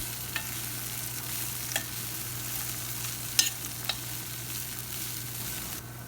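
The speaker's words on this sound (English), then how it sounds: "Mix the poga with other ingredients." Soaked poha being stirred and mixed with other ingredients in a pan for poha upma, with a few soft scraping clicks over a steady low hum and faint sizzle, no talking.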